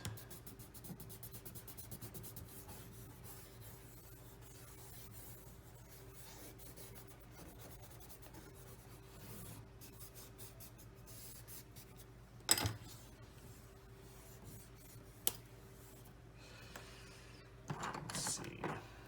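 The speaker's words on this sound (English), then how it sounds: "drawing with pencils" Pencil scratches and rubs across paper in a long run of fine, steady strokes, up close and quiet, with a few sharper taps and a burst of heavier scribbling near the end.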